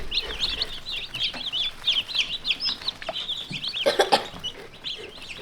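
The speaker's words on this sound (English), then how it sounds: "We brought more chickens." Pastured meat bird chickens, a fresh batch of poultry, cluck and chirp continuously in a busy chorus, close and fairly loud, with a brief louder flurry near the end and no talking.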